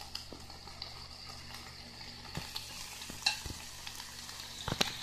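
Taco frying in a pan, with a soft continuous sizzle of oil and a few sharper clatters and scrapes as the taco is lifted out and turned, close and fairly quiet, without talking.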